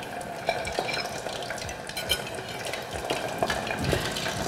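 Chunks of meat fry in hot oil on fondue forks, a continuous crackling sizzle with scattered pops and light metal clinks from forks and pot, close and fairly loud, with no voices.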